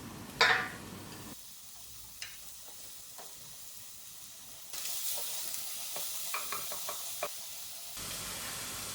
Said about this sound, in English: We're first going to start to fry our onions.